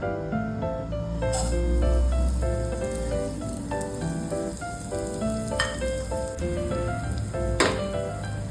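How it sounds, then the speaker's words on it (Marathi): Vermicelli roasting in hot ghee for seviya kheer, a steady sizzling fry throughout with occasional scraping taps of stirring, moderately loud and continuous, no voices. "आपल्या शेवया आपण भाजून घेऊया. छान ब्राऊन होईपर्यंत भाजायचे."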